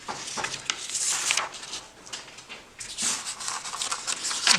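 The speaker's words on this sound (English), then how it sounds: "I'm going to get a new piece of paper here" A fresh sheet of paper is handled, giving soft crinkling rustles and brief swishes in a couple of bursts at close range, with no talking over it.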